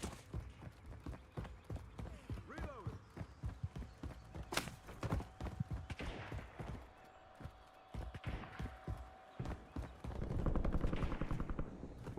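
Sniper gunfire in the video game Call of Duty Black Ops 6, sharp cracks scattered among footsteps, clatter and other game action, with brief distant voices.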